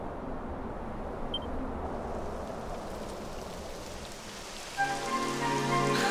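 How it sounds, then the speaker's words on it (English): Steady rain pours down in Dragon Quest XI, a dense even hiss of falling water that holds throughout, joined near the end by a rising game music tone over the downpour. "It would have to go and start raining, wouldn't it?"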